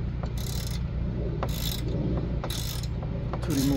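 Wrench ratcheting on the rear brake bolts of a 2017 VW Passat, with repeated bursts of fast ratchet clicks under a constant low mechanical hum, heard close.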